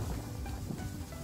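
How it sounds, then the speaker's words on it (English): Gusty wind buffeting a microphone outdoors on a walk, a continuous low roaring rumble with a broad hiss, loud and close, with no voices. "It's very windy."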